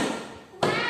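In a second-grade classroom lesson, a single loud hand clap cracks out sharply after quieter murmuring, demonstrating a strong sound.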